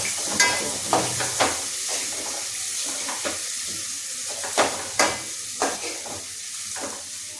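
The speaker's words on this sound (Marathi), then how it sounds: "आता यात आपण चणा डाळ टाकायची. डाळ टाकल्यानंतर तिला मिक्स करायचं." Chana dal sizzles and fries in a pan while a spoon stirs it, with a steady crackling hiss and about a dozen sharp, rhythmic scrapes and clinks of the spoon, close and clear.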